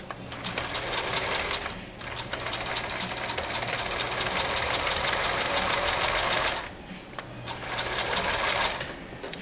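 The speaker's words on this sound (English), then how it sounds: "I'm gonna go ahead and sew my pleats together, and I'm sewing at 1/4 inch" A sewing machine stitching together the pleats of a leather cap at a quarter-inch seam, running in fast steady bursts with two short pauses between runs, close up and clear, with no voices.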